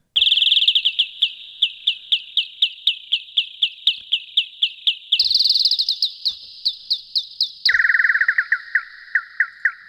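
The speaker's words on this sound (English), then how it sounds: "Bird tweet." A bird tweet effect from the Gforce Software AXXESS synthesizer plays as rapid rhythmic electronic chirps, repeating evenly and then shifting to a higher pitch and a lower pitch. The sound is loud, clean and alone.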